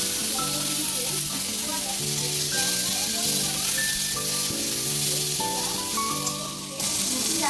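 Tomato dropped into a pan of spices frying in oil, giving a loud, steady close sizzle throughout, with stirring noises and a brief dip near the end.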